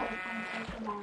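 A sheep in the Minecraft video game gives a single brief, wavering bleat, quiet and over almost at once, with a faint background hum.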